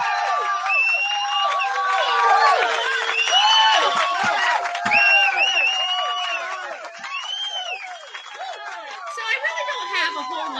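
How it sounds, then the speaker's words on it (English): A crowd cheers, whoops and shouts continuously for about ten seconds, loud and close, with high excited voices overlapping in a lively, sustained roar. "We're going to give them a nice crowd, a nice cheer."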